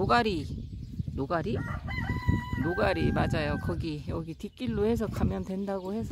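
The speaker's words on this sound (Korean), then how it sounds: "여기 지금 닭이 우네요." A rooster crows at Nogari Beach on Yeongheungdo, a coastal shellfish-digging spot. The call rises and falls a few times at moderate distance, mostly beneath steady nearby conversation.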